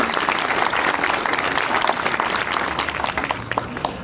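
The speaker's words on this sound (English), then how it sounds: "let's have a round of applause for our Cub Scout Pack 274" Sustained applause from a crowd, steady clapping throughout at a fairly loud level.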